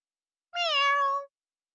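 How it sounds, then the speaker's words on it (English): A single cat meows once in Fire Emblem Three Houses, a clear, drawn-out tonal cry of about three-quarters of a second, close and isolated against silence. "I never would have guessed a cat this big could sneak into our pantry"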